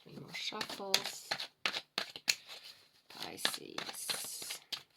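Tarot cards riffled in a few quick shuffles, crisp papery flutters and snaps close by, broken up by a woman's speech between bursts.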